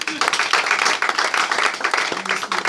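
A church congregation gives brisk, dense applause for the pastor, a short close burst of many hands clapping with a voice faintly underneath.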